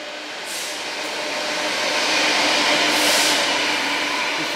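A train rumbles steadily with broad hissing noise, swelling a little louder as it draws into Rotherham Central station, with brief bursts of brake-like hiss.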